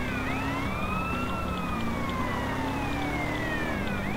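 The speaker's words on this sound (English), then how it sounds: "turn your sirens on." A police siren wails continuously in a GTA-based roleplay pursuit, its pitch sweeping up and down over a steady engine rumble; the tone has a synthetic, game-like quality.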